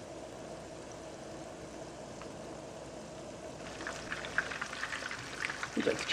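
Chicken cutlets for chicken parmigiana sizzle in a pan, a steady soft crackle that grows louder and busier with scattered pops toward the end.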